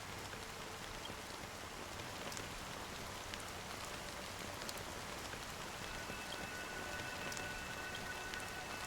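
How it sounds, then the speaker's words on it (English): Rain falls in the video game Honkai: Star Rail as a steady, even hiss of drops on surfaces, constant and moderately quiet with no voices. "But it's still raining."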